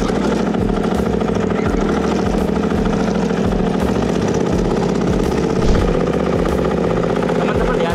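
An FCT25 crawler tractor's engine runs loud and steady as it drives in third gear, a rumbling, rhythmically pulsing mechanical drone with track clatter throughout.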